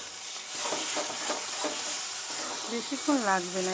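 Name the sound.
mixture sizzling and crackling in hot pan while stirred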